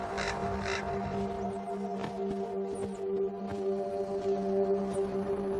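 Common raven calls echoing off granite cliffs in a late-winter forest: a few loud rasping caws over a steady background hum, with scattered softer calls throughout.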